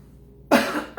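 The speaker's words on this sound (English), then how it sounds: "I have to clear my throat" Two short, sharp throat-clearing bursts close to the microphone after a brief quiet moment.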